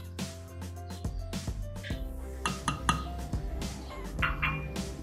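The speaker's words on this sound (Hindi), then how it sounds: "अब चीनी डाल देंगे, साथ ही डाल देंगे काला नमक" Sugar and black salt go into a strawberry milkshake in a kitchen: glass and spoon clinks and small clattering taps come in quick bursts, close and moderately loud.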